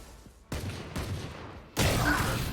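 Gunfire in the tactical shooter Valorant during a tournament match, bursts of rapid shots in three distinct volleys, loud and close, with the last burst the strongest.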